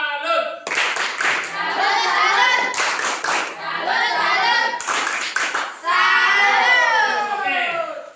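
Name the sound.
class clapping routine (tepuk salut) by children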